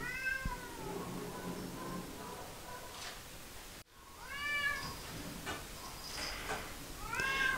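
A dilute tortoiseshell cat at a rescue shelter meows repeatedly, several clear, close meows spread across the stretch with a steady noisy hiss in the background.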